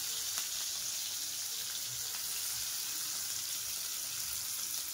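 Mushrooms and onions fry in a pan for a mushroom biryani, giving a steady, even sizzle of moderate loudness throughout with no voices.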